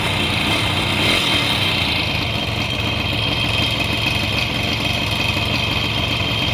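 A Kawasaki KH250 three-cylinder two-stroke motorcycle idles steadily nearby with an even, raspy buzz that holds at a constant level throughout, no voices present.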